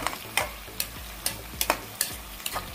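Tomatoes for chettinad chicken curry are stirred in a hot pan, with a spoon scraping in a regular rhythm of about one stroke every half second over a steady close sizzle.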